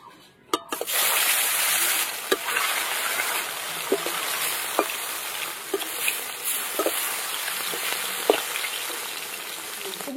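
Seafood fish coated in salt and turmeric sizzles in mustard oil in a wok, a steady close frying hiss with scattered pops and spatters, and no talking.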